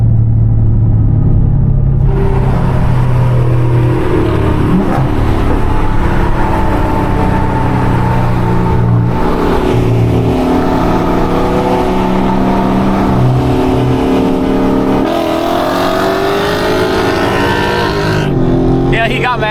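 A car, among a Scat Pack, Mustang 5.0, BMW and SS, accelerates hard from 60 to 130 mph on bald tires. The engine roars loud and close, rising through the gears with sustained rumbling drone.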